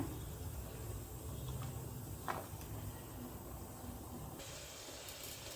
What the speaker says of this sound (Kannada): ಇವಾಗ ನೋಡಿ ಹುಳಿ ಅಥವಾ ಸಾಂಬಾರ್ ಕುದೀತಾ ಇದೆ